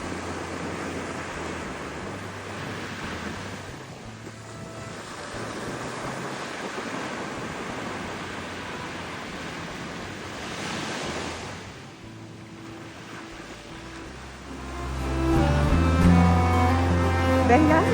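Waves washing onto a beach at Port Leucate: a continuous broad rush of surf with wind buffeting the microphone, one swell building and fading midway, then a louder low rumble near the end.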